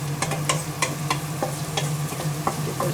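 Leeks and onions fry in plenty of butter in a pan, a steady close sizzle with a low hum beneath and repeated sharp clicks and scrapes of stirring throughout.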